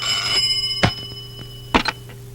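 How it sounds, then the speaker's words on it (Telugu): A telephone ringing indoors, with a steady electronic ringing tone early on, then two sharp louder clicks or rings, close and without talk. "ఫోన్ మోగుతోంది కదరా బుజ్జి"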